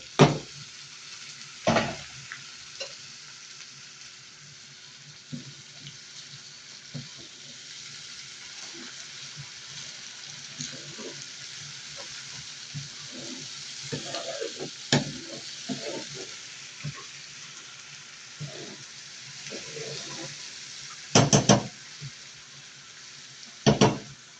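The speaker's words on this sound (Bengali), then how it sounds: "আমি এখন রসুন তেলানি করতেছি।" Garlic fries in hot oil with a low, steady sizzle, broken by scraping stirs and a few sharp clinks of a utensil against the pan; there is no talking.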